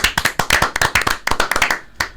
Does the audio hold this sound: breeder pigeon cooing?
no